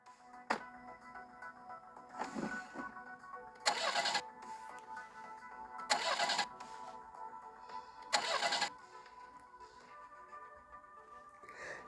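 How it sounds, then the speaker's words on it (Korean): A car engine is cranked several times and fails to catch, with repeated bursts of starter grinding separated by pauses over a faint background hum. "시동을 거는데 몇 차례 실패한 뒤"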